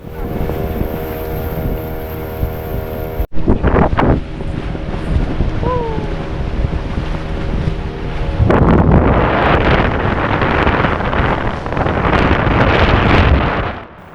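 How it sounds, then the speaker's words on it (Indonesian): Boat engine droning with wind and sea noise while travelling toward Mansinam Island, Papua; a steady tonal engine hum gives way to a broad, loud rushing wash of wind and waves in the second half. "membiarkan suara mesin perahu dan deburan ombak mengiringi pikiran"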